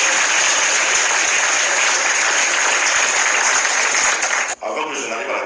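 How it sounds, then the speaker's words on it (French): A large audience at a football federation gathering bursts into loud, dense applause that holds steady, then cuts off sharply and gives way to a lower crowd murmur. "Applaudissez-vous"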